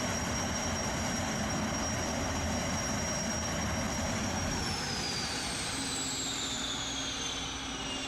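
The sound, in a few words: Jetfoil boat propelled by a jet engine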